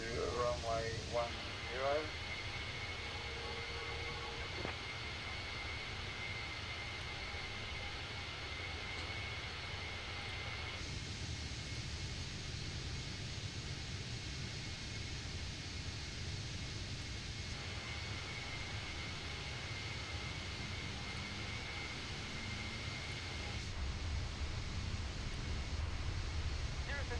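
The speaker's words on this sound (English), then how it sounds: "engine noises and the engine startups and stuff like that, they're really good." A small propeller airplane engine in Microsoft Flight Simulator 2020 drones steadily and fairly faintly throughout, with a broadband hum and radio-like hiss and no clear change in pitch.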